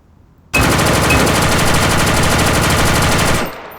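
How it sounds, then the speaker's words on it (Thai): M16A2 rifle firing full-auto in the online shooter A.V.A, one loud continuous burst of about three seconds that starts abruptly and cuts off cleanly, heard alone. "มายิงคุม เอ้ย เอาแบบยิงรัวก่อน"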